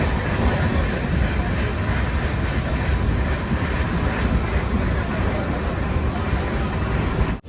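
Jan Shatabdi Express running at about 110 km/h between Thanjavur and Tiruchirappalli, hauled by a WAP7 electric locomotive, a steady loud broadband rumble and rush of wheels and wind filling the whole stretch without break.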